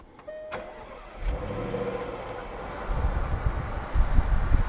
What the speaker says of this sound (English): you've got to get the engine running